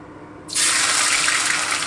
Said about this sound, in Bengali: এবারে আমি রসুন থেতোটা দিয়ে দিচ্ছি